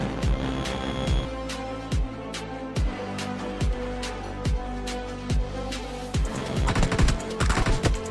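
Gunfire in the shooter game PUBG Mobile comes as loud, evenly spaced single shots, then a dense burst of rapid automatic fire near the end, with no talking.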